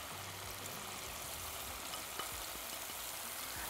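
Mushrooms frying in a heated pan give a steady, even hiss of sizzling oil, close and continuous with a faint crackle.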